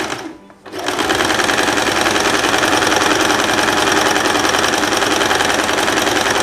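A sewing machine runs steadily and loud, stitching lastex elastic onto a Três Marias dress, starting after a brief pause and then whirring continuously with a dense mechanical rattle.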